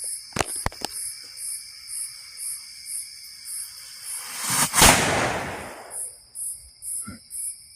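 A few sharp cracks, then a loud close firework blast with a rushing tail in a swamp, followed by rhythmic electronic beeping.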